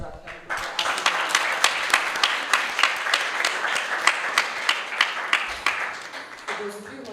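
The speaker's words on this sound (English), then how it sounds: "Let's give a round of applause to Radhika Raman Prabhu" Steady audience applause at a devotional talk, dense clapping sustained for several seconds under a faint background voice.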